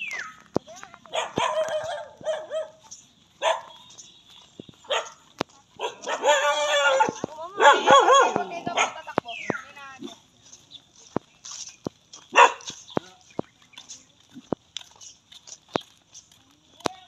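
A dog barks with short yips and whimpers on a walk toward a river, the bursts spaced irregularly among sharp clicks and outdoor noise, with people talking nearby in the middle stretch.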